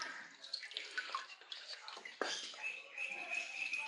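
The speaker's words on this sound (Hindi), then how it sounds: "अब हम इसको भर रहे हैं" Water poured from a cup into a home aquarium being refilled after cleaning, with splashing and trickling in irregular bursts, close by, with some faint background sound.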